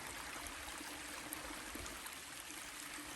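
A waterfall along the Appalachian Trail, a steady, soft broadband rush of falling water heard alone at a moderate distance.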